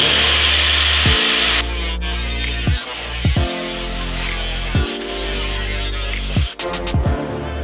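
A power tool cuts through a steel body panel with a loud, continuous grinding whine that dips and catches several times as it bites.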